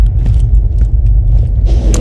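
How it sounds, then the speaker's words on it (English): A deep, continuous earthquake rumble from the video game Borderlands 2 rolls on loud and steady, with a few faint clanks and rattles on top. "The sound of those earthquakes marks my drills getting closer and closer to the vault."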